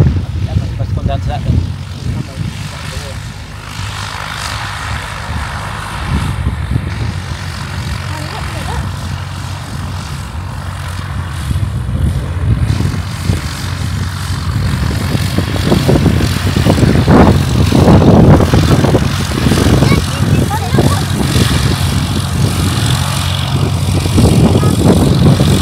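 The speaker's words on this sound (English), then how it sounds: "so we'll catch this plane taking off, shall we?" A propeller plane takes off in the distance, its engine drone rising and growing louder over the last half, heard outdoors under close conversation.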